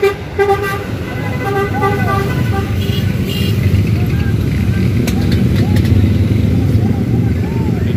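A red Sugeng Rahayu bus pulls out of a busy terminal, its horn tooting loudly at the start amid engine rumble and traffic noise, with people talking nearby throughout.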